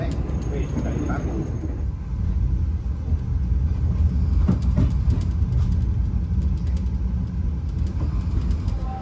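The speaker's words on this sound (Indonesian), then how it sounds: "Perjalanan kereta api Argo Bromo Anggrek yang saya naiki telah tiba di stasiun Semarang Tawang" Argo Bromo Anggrek passenger train on the Surabaya–Jakarta northern line, heard from inside as a steady low rumble with faint rail clicks, ending as it arrives at Semarang Tawang station; faint voices in the background.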